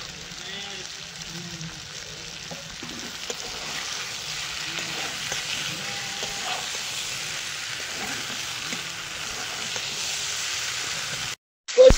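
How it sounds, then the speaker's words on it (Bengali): Shol fish and potato pieces sautéing in hot oil with cumin paste, a steady close sizzle with soft stirring scrapes throughout, ending in a brief gap and a louder clatter. "এবার মাছ আর আলু একসঙ্গে একটু কষিয়ে নেব।"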